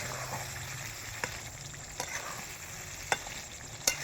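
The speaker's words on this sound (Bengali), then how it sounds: "এবারে আমি আস্তে আস্তে এটাকে নেড়ে চেড়ে নেব বন্ধুরা" Minced meat and pointed gourd stirred in a pan, soft continuous sizzle broken by a few sharp spatula scrapes and taps, close and quiet, no voices.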